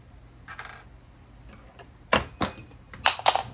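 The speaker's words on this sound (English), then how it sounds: "I'm throwing my scissors around again" Metal scissors tossed onto a sewing table give sharp clattering knocks, a faint one early and then several louder, close ones in quick succession.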